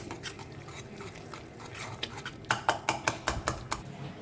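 Homemade ghee being stirred in a pot with a utensil, a soft scraping then a run of about eight quick, close clinks of metal against the pot's side.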